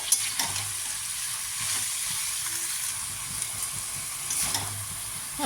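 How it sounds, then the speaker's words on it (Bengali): Bottle gourd greens are stirred and sautéed with spices in a pan, making a soft continuous hiss with a few spatula scrapes and taps, close but fairly quiet, no speech. "লাউ শাকগুলো দিয়ে মশলার সাথে ভালো করে নাড়তে হবে, কষিয়ে নেব।"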